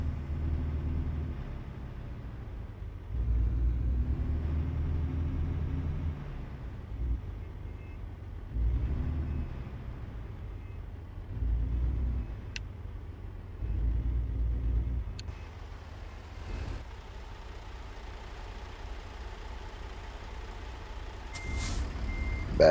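Kenworth W900 truck backing up with a deep idling rumble that swells in pulses, then a steadier engine drone; reversing beeps are hard to pick out clearly.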